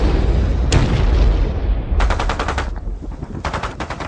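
Artillery and gunfire from the Bolshevik assault on the Kronstadt naval base near Petrograd: a loud, continuous rumble of booms broken by rapid staccato bursts of shots.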